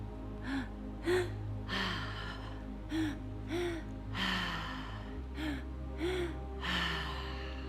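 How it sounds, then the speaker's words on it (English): Breathwork session of deep breaths in and out through the mouth, a slow repeating cycle of loud, airy inhales and exhales over a low steady hum, with no talking. "It's all in and out through the mouth at whatever pace feels good to you."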